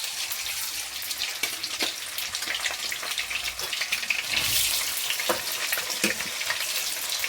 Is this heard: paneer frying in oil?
yes